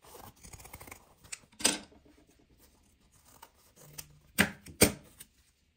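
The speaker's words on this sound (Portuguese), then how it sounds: "Eu já vou recortar com a tesoura de picotar" Pinking shears cut through fabric in a few separate crisp snips, close and fairly quiet, with a pair of sharper cuts near the end and soft handling rustle in the gaps between them.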